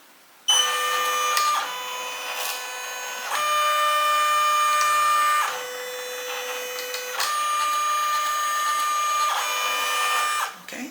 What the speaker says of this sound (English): then I'm going to go ahead, embroider again